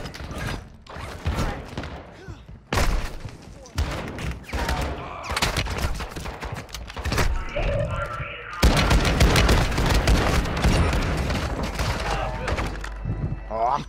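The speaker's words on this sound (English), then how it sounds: "My god, stop shooting us!" Call of Duty MW2 DMZ gunfight inside a building, dense rapid automatic fire and heavy bursts filling the clip, loud and close, with players shouting over the shooting.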